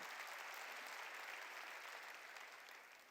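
A church congregation applauds during a sermon, a dense, even wash of clapping heard from a distance that holds steady and tapers slightly at the close.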